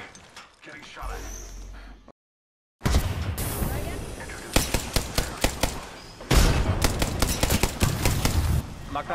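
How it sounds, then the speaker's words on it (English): Rapid bursts of gunfire crackle in a ranked match of a shooter video game, sharp repeated shots clustering in the second half after a brief silent gap, with players talking throughout. "Getting shot at."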